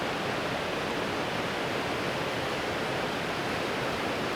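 A waterfall at a scenic outdoor camp spot gives a constant, loud, hissing rush of falling water that stays even throughout, with no other sounds or voices.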